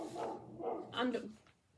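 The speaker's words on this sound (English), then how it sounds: "sorry about the dog." A dog barks a few times in a room, the short yaps overlapping with a person speaking nearby during a casual indoor chat.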